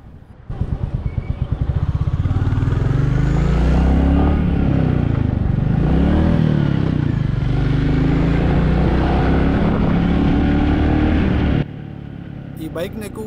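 A 2025 Royal Enfield Bullet 350 ridden through city streets, its steady engine thump close and loud for most of the ride before dropping off sharply near the end; no talking over it.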